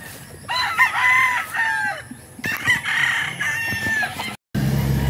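A bulik-feathered rooster crows loudly and close by, giving several drawn-out cock-a-doodle-doo calls broken by short clucks. No one speaks.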